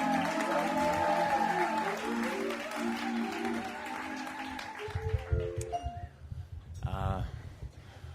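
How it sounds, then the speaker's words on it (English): A storytelling-event crowd at a Moth GrandSlam claps and cheers, the applause fading after a few seconds as voices and other noises take over. "keep that applause going for Will Petre."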